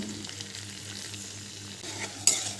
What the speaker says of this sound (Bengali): মশলার সাথে সবজিগুলোকে ভালো করে এখানে আমি কষিয়ে নিচ্ছি